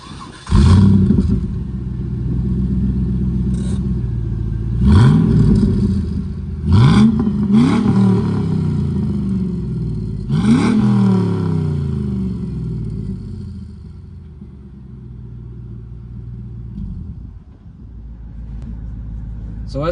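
A 1999 Camaro SS V8 rumbles at idle close by, then gets several sharp revs that rise and fall before settling back to a steady low idle, with no talking.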